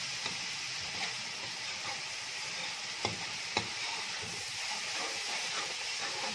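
Spices for a kofta curry fry in a pan with a steady, bright hissing sizzle, broken by a couple of sharp clicks of a stirring spoon, close and even throughout.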